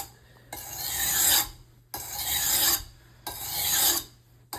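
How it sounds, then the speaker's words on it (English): A knife is drawn across the coarse side of a sharpening stone in three slow, even strokes, each a loud close rasp separated by brief pauses. "you want to go back over the knife just once more with the coarse side"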